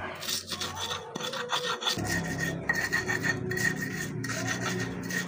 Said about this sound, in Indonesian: jadi kalau ngulek bumbu tuh Gun, jangan lupa biji cabenya yang halus ya